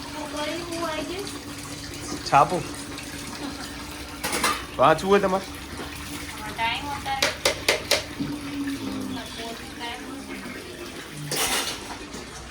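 Dishes and cutlery clink and clatter under running tap water, with intermittent clanks; a person speaks briefly in between.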